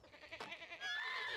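A goat in a horse ranch video game bleats with a wavering, nasal cry that grows louder and more sustained toward the end, over faint farmyard background.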